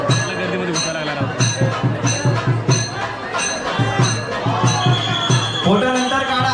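A packed throng of worshippers fills a Pune Ganpati pandal during Ganesh Chaturthi, with a continuous murmur of many voices and bell strokes ringing at a steady beat. An amplified announcer speaks over the crowd noise.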